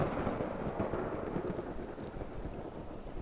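A thunderstorm with steady, dense rain and a rolling rumble of thunder running continuously throughout, loud and close with no pauses or voices.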